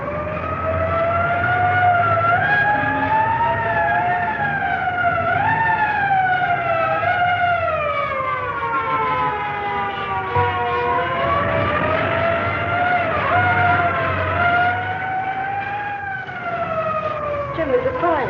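Several fire engine sirens wail together, rising and falling in overlapping sweeps as they come near along a street toward a burning building, loud and continuous over a low engine rumble.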